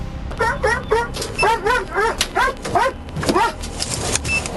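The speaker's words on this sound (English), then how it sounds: "All of a sudden, the canine began barking persistently." A police dog barks and yips repeatedly in quick bursts, loud and close, with a faint engine hum underneath.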